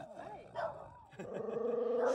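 Male village dogs bark and growl up close in short yips and then a drawn-out, rising growl, with people talking around them.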